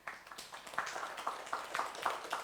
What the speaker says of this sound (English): So I think you should all clap for yourself.